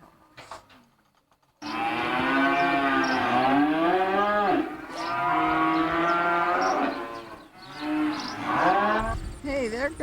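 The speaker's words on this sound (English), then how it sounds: "12 cows." Cows moo loudly and close, several long drawn-out calls following one another, with a brief quiet gap before the first.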